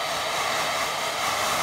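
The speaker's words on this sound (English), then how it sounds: "get me dryer on gentle. I'll just have a nice gentle dry." Hair dryer on a gentle setting blowing over a wet watercolour painting of a house with a pond, a steady close whooshing hiss that holds unchanged throughout, with no talking.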